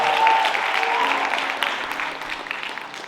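Audience applause at a Christian open mic poetry event, a dense, fairly close burst of clapping that stays full for the first seconds and then gradually thins and fades.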